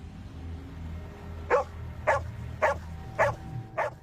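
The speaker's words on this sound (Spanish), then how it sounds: "Empezó a ladrar y parecía estar angustiada." A female dog barks out in a forest, five evenly spaced barks about half a second apart, fairly distant and faint over a low background rumble.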